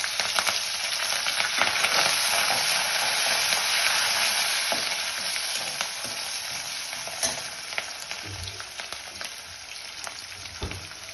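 Chilies and curry leaves splutter in hot oil, a loud continuous close sizzle with sharp crackles and pops, some clatter of stirring near the end, no speech.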